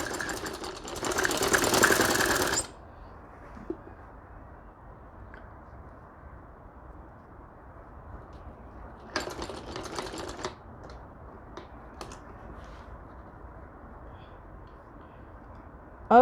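A sewing machine stitches a ladies shirt, running in two bursts of rapid mechanical whirring, the first louder, separated by a quieter stretch of low background hum.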